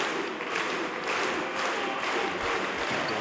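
A wrestling crowd at an Epic Encounter 2022 match claps steadily in a dense, continuous wash of applause that pulses slightly in rhythm, filling the arena without any voices on top.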